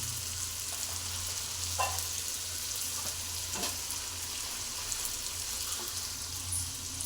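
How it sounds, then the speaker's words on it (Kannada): Karjikai pastries deep fry a few at a time in hot oil, a steady close bubbling sizzle with occasional faint pops and stirring clinks. "ಅಷ್ಟೆಲ್ಲ ಒಂದೇ ಸತಿ ಹಾಕೋಕ್ಕಾಗಲ್ಲ, ಸ್ವಲ್ಪ ಸ್ವಲ್ಪ ಎಣ್ಣೆಯಲ್ಲಿ ಬಿಟ್ಟು ಕರಿತೀನಿ"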